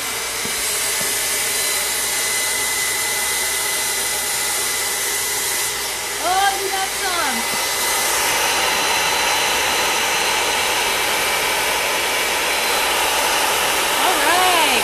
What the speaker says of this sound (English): they don't want to hear my hairdryer